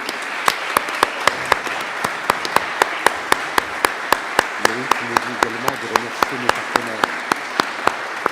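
An audience at a training department presentation applauds with a steady wash of clapping, while sharp, evenly spaced clicks cut through the sound and a voice talks underneath partway through.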